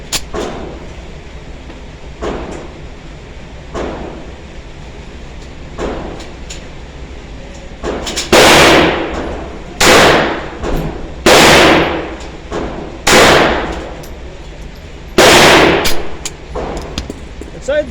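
Pistol shots from a Beretta 1935 fired at 7 yards ring out loud and sharp, about six spaced reports in the latter half after quieter clanks and handling noises.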